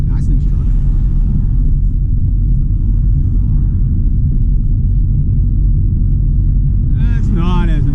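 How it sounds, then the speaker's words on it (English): Trucks roll past on the road in a steady, loud low rumble of engines and tires close by, with a voice speaking over the passing traffic. "Got a truck, another truck. That's a nice truck."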